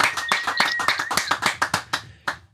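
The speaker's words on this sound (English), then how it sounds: "Round of applause." A few people clap for a guest on a podcast show, a sparse, sharp series of distinct close hand claps that thins out and ends with a couple of isolated claps.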